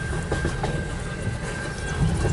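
A long CN eastbound mixed freight train rolls past close by in Port Huron, Michigan, its cars producing a steady heavy rumble with faint rhythmic wheel clacks and a thin high whine throughout.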